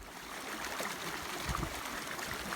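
The Eglinton River flows beside a grassy campsite in a valley ringed by mountains, a steady broadband rush of moving water that holds an even level throughout.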